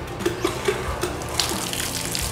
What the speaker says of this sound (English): they're going to squirt some water up in his mouth and give him a good rinse so that his teeth are really clean